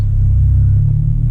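A Ford Mustang with a tuner and aftermarket exhaust idles with a loud, deep, steady rumble at close range, a low throbbing pulse holding throughout.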